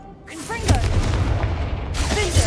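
Confringo blasting spell explosion in Hogwarts Legacy, a loud booming blast with a rumbling low tail and crackling debris, sustained for a couple of seconds over game effects.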